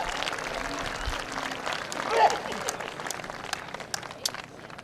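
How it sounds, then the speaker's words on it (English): An audience at a high school accident-simulation presentation applauds steadily with dense clapping, cheering swelling briefly midway before tapering off. "let's give her a round of applause"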